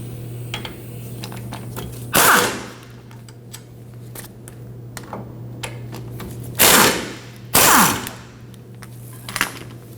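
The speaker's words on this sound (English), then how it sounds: "And we can remove our bracket bolts with an 18 millimeter." Bracket bolts are removed with an 18 mm socket on the rear brakes of a 2015-2022 Chevrolet Colorado, heard as three loud bursts of impact-wrench rattle over a steady low hum, with light clicks of tools in between.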